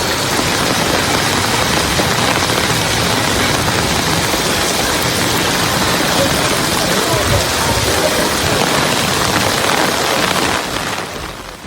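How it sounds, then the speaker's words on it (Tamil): Heavy rain driven by strong wind in Tiruvarur district, a loud, dense, continuous hiss of downpour with no breaks, fading slightly only at the very end. "பலத்த காற்றுடன் மழை பெய்தது"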